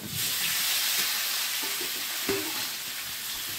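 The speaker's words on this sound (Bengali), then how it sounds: "এবারে আলুটা ভাজবো" Potatoes fry in a pan with salt and turmeric, giving a steady close sizzle with soft scraping from stirring and one brief clatter near the end. No one speaks.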